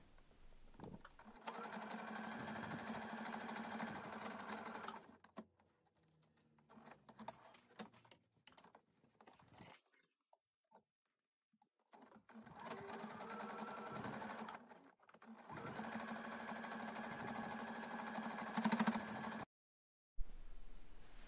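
A sewing machine stitches a seam on a bag, running in two long loud bursts with a short stop-and-start stretch between them and a brief pause near the end.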